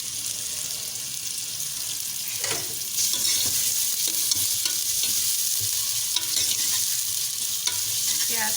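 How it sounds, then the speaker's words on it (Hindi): Chopped onions fry in hot oil with cumin seeds and garam masala, a close, steady sizzle with occasional stirring scrapes throughout, no talking. "प्याज को हम थोड़ा कलर चेंज होने तक फ्राई करेंगे।"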